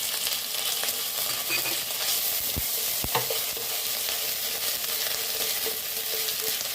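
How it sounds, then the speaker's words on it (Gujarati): Ginger paste hitting three spoonfuls of hot oil in a bowl while tempering spices for samosa filling: a steady broadband sizzle throughout with a couple of sharp stirring clicks, close and unbroken, no voices. "તેલ ગરમ થઈ ગયું છે. તેમાં 1 ચમચી આદુની પેસ્ટ નાખીશું."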